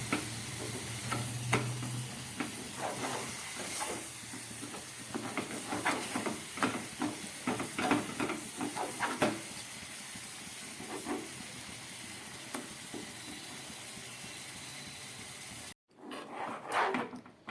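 Jaggery and sugar melt in a pan over a low gas flame, giving a soft hiss and sizzle with repeated scraping stirs, a brief cut near the end, then more stirring.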